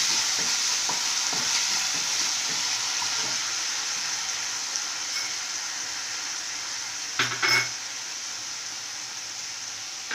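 Vegetable manchurian mixture with two spoons of chilli sauce is mixed in a sizzling pan. A constant bright hiss of frying runs throughout, with light stirring scrapes and a brief clatter near the end.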